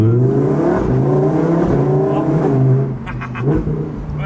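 A Lamborghini Huracan engine revving hard, a loud close roar that climbs through quick successive gear shifts, each shift marked by a brief dip and rise in pitch, ending with sharp crackles.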